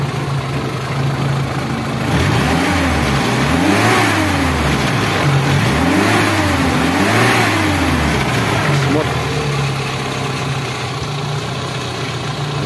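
A Toyota 4K engine, newly converted to an electronic distributor, idles loudly up close and revs up and back down twice in rising and falling sweeps before settling to a steady idle.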